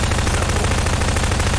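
Loud, continuous automatic gunfire in the video game Prop Hunt, a dense rattling burst that fills the whole moment without pause.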